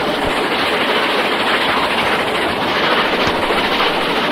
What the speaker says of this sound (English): This is the A4 Pacific named Dominion of Canada, and she's hauling the famous Flying Scotsman train